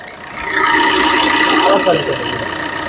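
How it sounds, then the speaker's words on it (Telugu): A 2017 Maruti Ertiga VDi SHVS diesel engine idling steadily nearby, a low continuous rumble with a faint rattle, running smoothly without revving. "ఇంజన్ అయితే ఎక్కడ ఎంత సైలెంట్ అంటే అంత సైలెంట్ ఉందండి"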